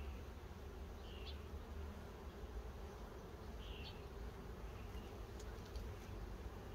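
A steady, dense hum of many honey bees buzzing close by on a hive frame, continuous throughout with a few faint higher chirps drifting above.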